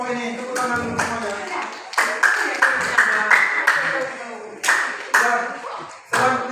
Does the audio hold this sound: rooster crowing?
no